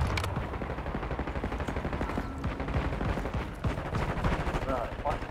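Rapid automatic gunfire from the video game Call of Duty, loud and nearly continuous with dense bursts throughout, while a player's voice talks over it.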